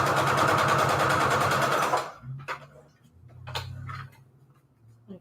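A sewing machine stitches down fabric for a junk journal embellishment, giving a fast, even mechanical rattle up close for about two seconds before stopping, followed by quiet handling noises.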